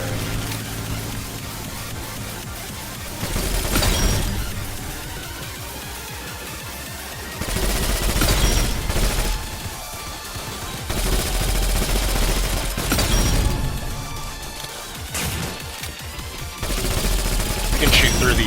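Rapid bursts of automatic gunfire from the Roblox shooter Gun Game rattle loudly in repeated volleys with short pauses between them, and speech is faintly present beneath the shots.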